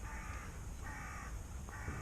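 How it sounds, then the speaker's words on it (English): Crows cawing loudly in repeated harsh bursts over steady background noise at a fishery lake in November, several calls overlapping across the moment. "God, look at the crows."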